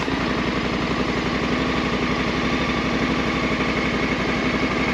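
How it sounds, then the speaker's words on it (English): A 2023 Honda Africa Twin 1100 motorcycle runs at a steady, loud idle right after starting, its rapid, even exhaust rumble close and unbroken throughout. "Let's get the bike started now."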